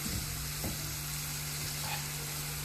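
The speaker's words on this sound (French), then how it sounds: "Nous allons laisser l'huile mijoter et la carotte mijoter jusqu'à ce qu'elle change de couleur" Carrot simmers in oil in a pan, giving a soft, continuous sizzle with faint crackles and a low steady hum underneath, heard close but fairly quietly with no voices.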